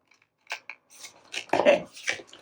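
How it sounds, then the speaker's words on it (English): Scissors trimming a handmade Christmas tag: a few close, crisp snips and paper rustles in quick succession, growing denser toward the end. "I'll trim this off."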